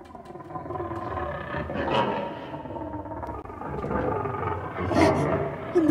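A lion's deep roaring from a children's prayer drama, a sustained low rumbling growl swelling and fading over several seconds, close and fairly loud, with no talk over it.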